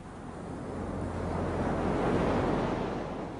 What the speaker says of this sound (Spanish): Esta playa está en la vertiente occidental del Mar Rojo, en el lado africano